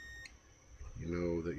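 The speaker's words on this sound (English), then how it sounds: "you might hear it beep for a second, and that's it charging these rail caps" A Phoenix Gold Z10001 car amplifier under repair gives a single short, high beep at the start as its rail capacitors charge, then falls quiet while someone talks.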